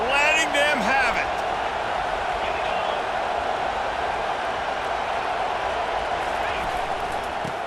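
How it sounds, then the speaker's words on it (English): Stadium crowd in a college football video game, a broad sustained roar of noise that swells briefly under a commentator's voice at the start, then continues steadily on its own. "this crowd is letting them have it"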